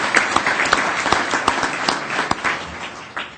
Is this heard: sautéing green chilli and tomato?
no